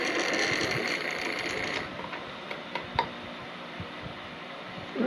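A classic cheap Model Power steam train model, mostly molded plastic, runs with a dry, noisy mechanism, giving steady whirring and ratcheting gear noise that eases off midway into scattered ticks and clicks.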